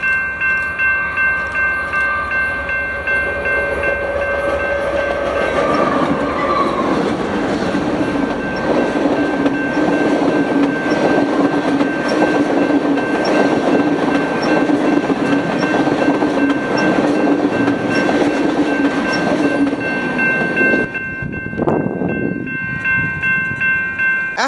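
A freight train rolls past a railroad crossing at about 50 mph with a steady roar and clattering wheels while the crossing bell rings constantly; a brief horn sounds near the end.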